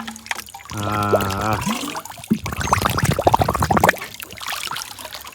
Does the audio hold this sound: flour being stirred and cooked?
no